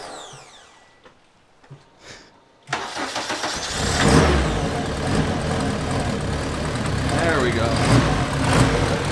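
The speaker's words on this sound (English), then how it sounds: "first startup on the K24 Turbo" A turbocharged Honda K24 engine cranks and fires for its first startup, then settles into a loud, steady, untuned idle. A voice speaks briefly just before it catches.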